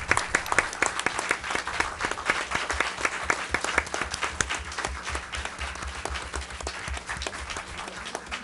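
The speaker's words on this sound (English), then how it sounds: "Let's give them a big round of applause." Dense, steady applause from an audience at a village board of trustees meeting, many hands clapping continuously for over eight seconds with a few louder claps standing out.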